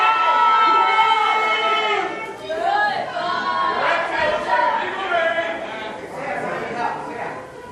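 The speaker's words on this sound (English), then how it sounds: "The crowd's really giving it to him, not caring at all." A theater crowd at a wrestling show jeers and shouts continuously at a departing wrestler, a dense, loud mass of voices with overlapping cries.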